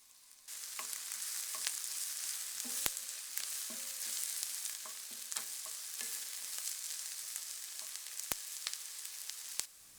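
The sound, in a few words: onions frying in oil in a pan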